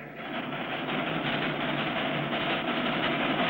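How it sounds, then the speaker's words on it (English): A small train, steam-era cartoon style, rolls steadily onto a high bridge in the northwoods, giving a continuous close rumble and rattle of wheels and cars at an even, sustained loudness with no voices. "As the little train starts across the bridge,"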